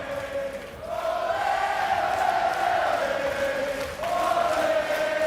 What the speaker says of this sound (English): The crowd certainly with Chris.